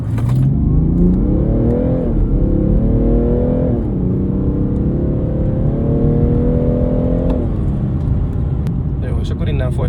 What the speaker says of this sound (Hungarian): Nézzük meg a gyári beállítással egy 0-100-as gyorsulás